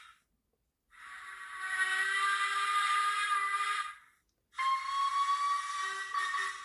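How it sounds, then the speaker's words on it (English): Two long, steady whistle blasts from a Hornby model steam locomotive sound in turn, separated by a brief silence, bright and hissy with several tones blended together. "So we have whistle 1 and whistle 2."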